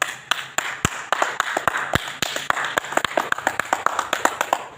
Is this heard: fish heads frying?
no